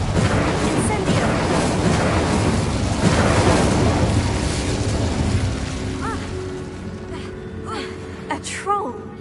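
The Incendio fire spell is cast in a Harry Potter video game, giving a loud whooshing burst of flame amid dense battle effects, with voices calling out over it and brief gasps near the end.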